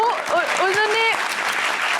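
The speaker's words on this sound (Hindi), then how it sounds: "अरे तालियां।" Studio audience applause on a Pakistani TV comedy talk show, a dense wash of clapping lasting about two seconds, mixed with a voice talking over it.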